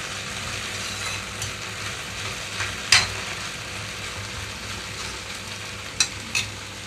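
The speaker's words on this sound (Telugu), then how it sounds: "మధ్య మధ్యలో కదిలిస్తున్నాను చూడండి పొడి పొడిగా వచ్చేసింది" Okra (bendakaya) frying dry in a pan gives a steady, soft sizzle throughout, with a few brief scrapes of stirring around the middle and near the end.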